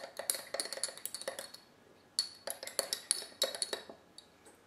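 A spoon mixing salmon filling with curry in a bowl, rapid clinking and scraping strokes in two quick bursts separated by a short pause, faint and close.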